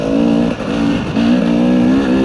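A dirt bike engine drones steadily while riding trails through the woods, its note dipping briefly twice as the rider eases off, then holding again; close and loud, with no talking.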